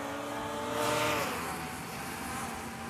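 Racing hovercraft engines roaring at the start of a race at Rother Valley Country Park, a steady broad mechanical drone that swells briefly as craft pull away, heard at a moderate distance.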